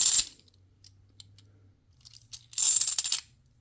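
A burst of coins clinks and jingles as a coin roll is poured out, then scattered faint metallic clicks over a low hum, followed by another loud rush of tumbling coins.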